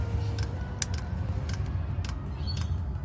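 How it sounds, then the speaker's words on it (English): Cheap diesel heater fuel pump ticking faintly at a steady slow rhythm, a few sharp clicks spaced across a continuous low hum inside a van. "I'll give you a listen of the little pump here."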